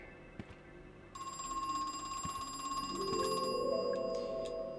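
A telephone rings inside the horror game Crow Country: a steady electronic bell tone rings continuously and moderately loud, with faint game ambience underneath and no talking.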